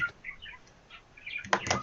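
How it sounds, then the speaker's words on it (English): Pet bird indoors giving a few soft chirps and small calls, faint and scattered, then a brief louder burst of bird noise near the end with no talk. "Is my bird making too much noise?"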